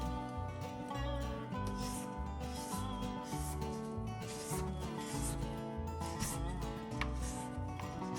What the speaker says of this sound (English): Then scrape down the sides.